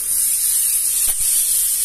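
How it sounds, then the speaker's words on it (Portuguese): Four pork chops frying in their own rendered fat, a steady close sizzling hiss with a faint thump in the middle. "já fritei aqui as quatro bistequinhas"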